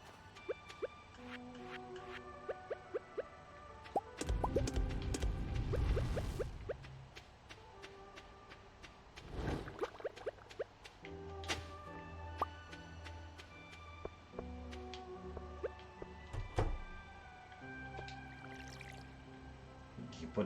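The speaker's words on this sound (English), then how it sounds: "You put a little water for the cactus." Water being poured onto a cactus in the farming game Stardew Valley, with soft drips and splashes around a loud burst of sloshing, plus other small game clicks and tones over a steady musical background.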